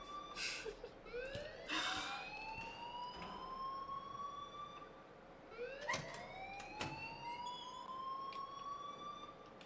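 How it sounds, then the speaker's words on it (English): An alarm in the video game Life is Strange, a rising, siren-like electronic wail that repeats in two long sweeping cycles, loud and steady with no talk over it. "please turn off that alarm since that's your job"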